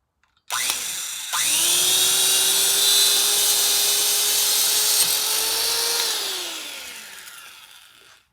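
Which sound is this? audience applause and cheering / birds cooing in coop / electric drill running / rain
electric drill running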